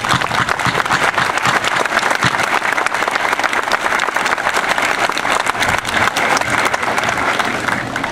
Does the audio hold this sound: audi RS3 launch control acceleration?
no